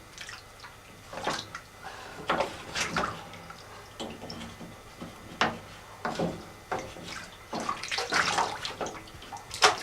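Water runs from a tap into a kettle in uneven, splashing bursts with small drips and knocks between them, close and fairly quiet, with no one speaking.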